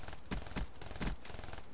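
Three sharp bursts of gunfire from the game Black Ops 3, each a short clustered rattle spaced about a quarter to half second apart, loud and close over a steady background hum.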